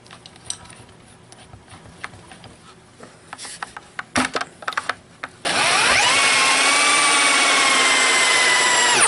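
A bigger power drill bores into a log slab, starting after scattered handling knocks and clatter, then whining loudly and continuously at close range.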